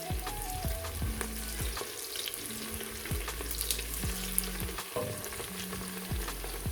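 Onions sizzle steadily in a pan while Afghan-style tripe is being prepared, a constant close frying hiss with occasional stirring scrapes and low clunks, no voices.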